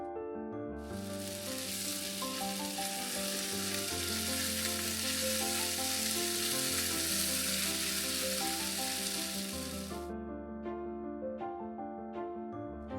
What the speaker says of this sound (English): And now, you are ready to stir fry.